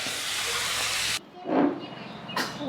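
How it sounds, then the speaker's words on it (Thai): Minced pork chili paste stir-frying in a pan, a steady loud sizzle and hiss that cuts off abruptly, followed by two short bursts of sizzling as the mixture is stirred. "ผัดให้มันสุกแล้วก็ชิมได้เลย"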